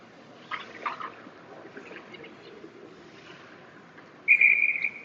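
A referee's whistle at an ice hockey game gives one sharp, shrill blast near the end, following faint muffled arena noise and a couple of soft knocks.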